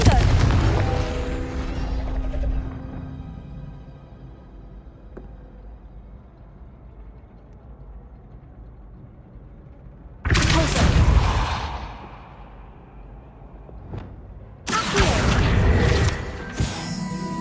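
Confringo fire spell explosions in Hogwarts Legacy, several loud, sudden booming blasts with crackling tails separated by quieter stretches, the first decaying slowly and two sharp bursts near the end.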